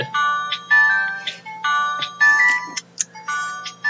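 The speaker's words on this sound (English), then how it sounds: "I'm getting a phone call." An incoming-call phone ringtone plays alone, a loud repeating electronic melodic pattern of short bright tones in regular bursts, close to the device.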